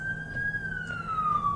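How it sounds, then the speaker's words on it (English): A wailing siren glides slowly downward in pitch at a moderate distance, passing steadily over a low background rumble. "Sorry about the siren in the background."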